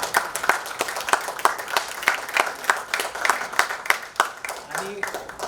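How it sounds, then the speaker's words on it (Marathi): Audience applause at the launch of the Pranmitra oxygen concentrator, a public event with a minister present: sustained clapping from a sizeable crowd with sharp repeated peaks, steady throughout, with faint background voices. "सगळ्यांनी एक टाळ्या वाजवून सगळ्यांचा"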